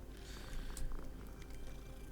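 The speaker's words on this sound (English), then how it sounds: "And let's pet a cat." A cat in Hogwarts Legacy purrs steadily while being petted, a low continuous rumble heard close up throughout with a slight swell midway and no speech over it.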